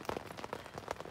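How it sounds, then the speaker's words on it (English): Rain falls steadily on a camping tent in Sequoia National Park, a close, dense patter of drops across a brief stretch. "it's been raining pretty consistently, pretty much after we got the tent set up"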